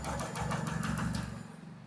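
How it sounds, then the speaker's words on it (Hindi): A Honda SP 125 BS6 motorcycle engine cranks and sputters, its uneven rhythmic chugging and knocking showing a misfire from a spark current fault, close and fairly loud for about two seconds. "चलिए हम बाइक को एक बार करते हैं यहाँ पे स्टार्ट।"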